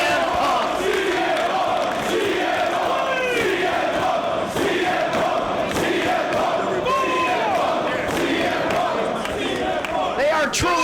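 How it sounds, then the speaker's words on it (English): Wrestling fans roar and chant for CM Punk in an arena, a dense, loud, sustained crowd noise with rising yells and whoops swelling throughout. "Listen to these fans cheering every move from CM Punk."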